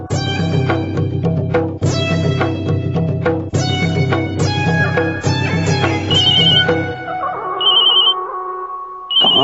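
An electronic phone ringtone beeps in short repeated bursts as dramatic background music fades, heard in a Hindi television serial scene.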